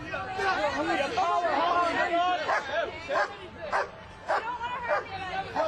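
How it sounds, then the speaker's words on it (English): A dog barks repeatedly amid an angry crowd at a marijuana protest during arrests, sharp yips cutting through dense shouting and babble close by. "Get that dog away from here!"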